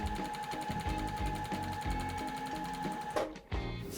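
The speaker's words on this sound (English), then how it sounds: "So we are going to now start sewing." A sewing machine chain-piecing triangle and rectangle quilt pieces runs steadily at close range with a fast, even stitching rhythm, then cuts out briefly near the end.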